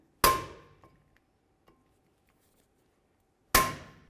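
Two sharp metallic taps on the mounting screws of a front brake caliper on a 2002-2006 Honda CR-V, a few seconds apart, each ringing briefly before fading, with faint small knocks between them.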